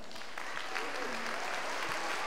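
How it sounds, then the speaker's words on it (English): A middle school spring concert audience applauds the choir, a dense, continuous wash of clapping with a few voices mixed in. "let's give them a round of applause"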